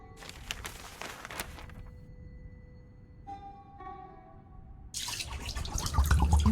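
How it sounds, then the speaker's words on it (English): Water in an adventure video game trickles and drips out of holes in rock, with a faint steady flow, brief gurgles and tonal chimes, then a louder rushing burst near the end. "The water runs back out of one of the other holes."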